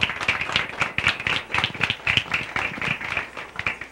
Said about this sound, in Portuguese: Palmas para Amanda.